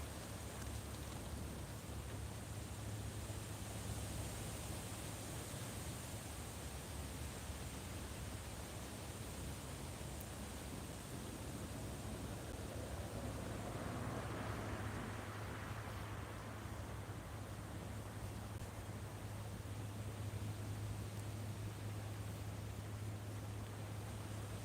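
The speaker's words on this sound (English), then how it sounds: "the wind is coming now." Breezy wind blows outdoors as a steady, even rushing hiss that holds for the whole stretch, with a low constant hum beneath it and no talking.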